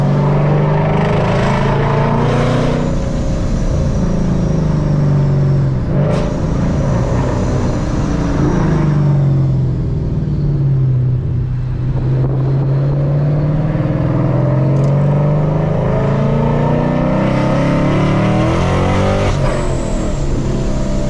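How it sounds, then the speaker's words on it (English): A Paxton supercharged S197 Ford Mustang running on E85 pulls hard, its engine note climbing and falling through repeated loud acceleration runs with supercharger whine, heard up close and continuously with no talk. "the sounds it makes is just so intoxicating"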